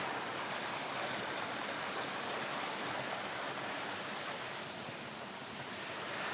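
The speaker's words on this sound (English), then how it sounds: "Looks like the track is currently a creek, complete with waterfall." Water runs down a flooded hiking track with a small waterfall on the Knights Track in New Zealand's Ruahine Ranges, a steady, even rushing roar that is close and constant, with no voices.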